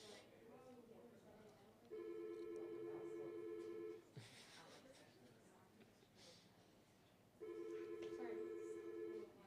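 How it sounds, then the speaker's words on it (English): A telephone gives a steady electronic tone in two separate bursts of about two seconds each, faint and heard over room noise during a student project presentation. "Just dial tone."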